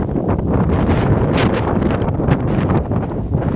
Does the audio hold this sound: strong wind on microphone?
yes